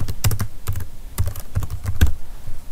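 A name being typed on a computer keyboard: close, fairly loud clusters of key clicks in short uneven bursts, with no voices.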